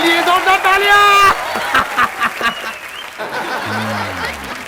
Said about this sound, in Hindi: खान साहब के लिए जोरदार तालियां।